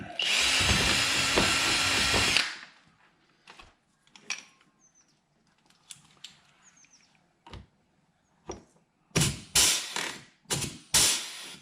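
A power drill drives rivets into the undercarriage mounts of an aero kit on a sixth-generation Camaro ZL1 1LE. One loud, close burst of whirring runs for about two seconds, followed after quiet taps and clicks by several short, sharp spurts.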